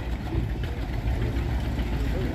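A John Deere G two-cylinder farm stock tractor idles steadily at a county fair tractor pull, with a low, continuous engine rumble throughout.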